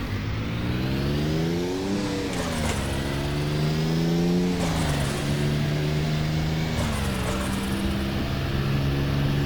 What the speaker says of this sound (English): The sound is pretty decent at low revs. Got that flat 6 bass.